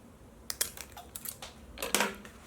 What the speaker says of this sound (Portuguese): peguem a tesoura e dê um pique